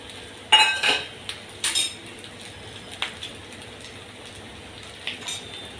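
Flax seed powder is spooned into a cooking pan: a few bright metallic clinks of the spoon against the pan cluster near the start, then sparse lighter taps follow in a quiet kitchen.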